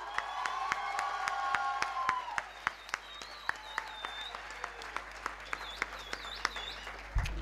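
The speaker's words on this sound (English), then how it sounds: "I'd like to give a huge round of applause to all of us, the class of 2022." Graduation ceremony applause for a university class of 2022: a large crowd claps steadily and densely, with scattered sharper claps and a few cheers over a long stretch, fading toward the end.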